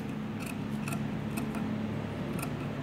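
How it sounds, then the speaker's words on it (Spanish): Scissors cutting fabric for a small girl's top, a handful of crisp snips spread across a couple of seconds over a soft background hum, close and fairly quiet, with no talking. "Y le cortamos acá."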